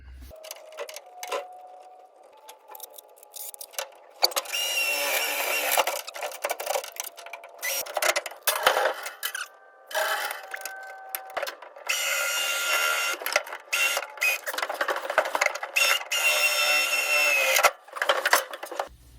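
Power drill boring holes through the steel firewall of a classic truck during a steering column install, in repeated whirring bursts separated by short pauses, close and fairly loud in a garage.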